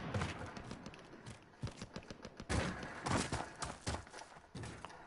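Gunfire in Warzone rings out in irregular bursts of sharp cracks and thuds, some nearer and louder, others more distant, scattered across several seconds.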